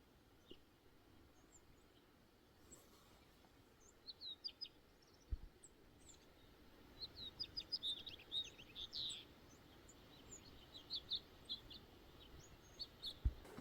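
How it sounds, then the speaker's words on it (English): Finches chirp and tweet in scattered quick bursts by a pond, faint and somewhat distant, with a soft outdoor background hum. "Those little finches are fun to watch."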